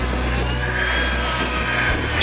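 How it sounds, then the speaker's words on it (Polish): An aerobatic radio-controlled model helicopter, powered by an engine burning methyl alcohol mixed with oil, flies inverted at a model aircraft show. Its loud, continuous buzzing engine drone holds steady throughout, with no voices. "Śmigłowiec w locie odwróconym, jest to śmigłowiec akrobacyjny."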